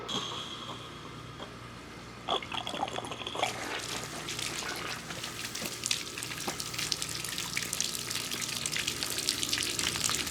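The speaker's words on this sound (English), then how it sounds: "Now I got the water running through it" Water begins hissing and spattering partway through, building into a steady rushing flow through a drip irrigation line in a high tunnel, with no one talking.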